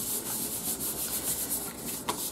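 Steady rubbing across a paper pop-up card to press it flat and adhere it, a soft continuous scratchy swishing that is close and even throughout, with one slightly sharper scrape near the end.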